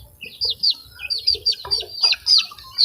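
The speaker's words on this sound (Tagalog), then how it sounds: "Yan yung ating puting sisiw" A white chick peeps close by in quick, high, sliding calls repeated in bursts, with faint low clucks and soft background rustle underneath.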